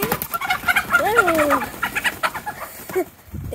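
Hens cluck and squawk amid background commotion, with one drawn-out rising-and-falling call standing out before the noise thins near the end.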